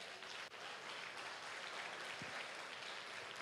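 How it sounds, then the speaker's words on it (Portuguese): Church congregation applauding during a sermon, a faint, steady wash of clapping heard from a distance with no talk. "Dê uma salva de palmas para o Senhor."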